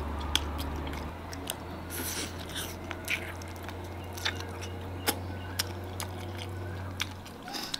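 Close, wet biting and chewing on braised pork trotters cooked spicy with soybeans, with soft squishy mastication and scattered crisp tearing clicks over a steady low hum, no talking.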